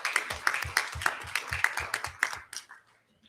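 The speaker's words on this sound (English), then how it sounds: "Please give our students a round of applause" A few people clapping for students at a school district event, an uneven rhythmic patter of close hand claps that thins out and stops near the end.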